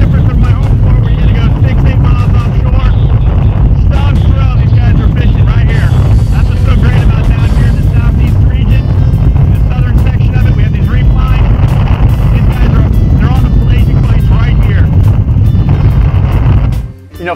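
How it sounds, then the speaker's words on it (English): Helicopter flying out over the ocean near Boca Raton, a loud, constant rotor and engine roar with heavy wind buffeting throughout, ending abruptly. "My buddy Ip from Boca Raton Helicopter is gonna show me the lay of the land"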